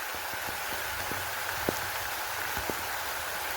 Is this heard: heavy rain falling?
yes